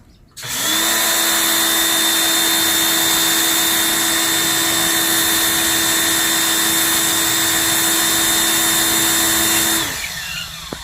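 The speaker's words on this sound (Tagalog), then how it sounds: "So, una natin i-try ay yung fan. Ito yung fan." A handheld steamer in fan mode whirs up after a click and runs as a steady high-pitched motor drone for about nine seconds before winding down to quiet, with a faint clunk at the end.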